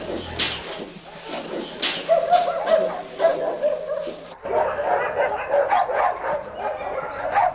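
Stray dogs at a shelter bark and yip in a busy, overlapping chorus nearby, with whimpers mixed in and speech running underneath.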